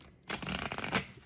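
Tarot cards shuffled by hand, a short riffling flutter of card edges starting after a brief pause, close and fairly quiet.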